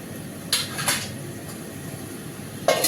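A spoon scrapes and clinks against a pan while potatoes and eggplant are stirred, giving a few sharp metallic taps over a low steady background hum, with no voices.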